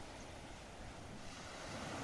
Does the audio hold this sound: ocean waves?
yes